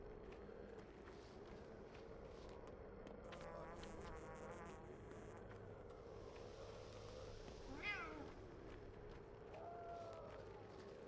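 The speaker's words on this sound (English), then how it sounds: "Hearing cats again." Cats meowing in the video game Pathologic 2, a few quiet mewing calls standing out around the middle over a low buzzing, insect-like ambient hum, fairly faint and distant.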